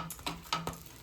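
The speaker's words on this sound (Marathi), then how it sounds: "दुसरी पाव भाजते ती चांगली भाजेल" Pav rolls toast on a nonstick tawa, with a faint sizzle under a few quick scraping and pressing sounds from a spatula.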